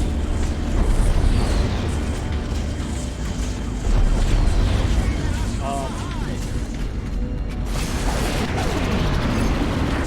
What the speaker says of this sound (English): The resulting explosion should trigger a chain reaction that will destroy the entire pen and the ships within it.